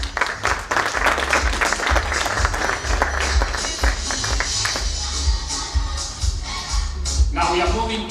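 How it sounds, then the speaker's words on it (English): Applause from a conference audience for a presenter at a technology and innovation event, a steady dense patter of clapping filling the hall, with some shuffling and a few voices underneath. "we can give a hearty clap to our able presenter."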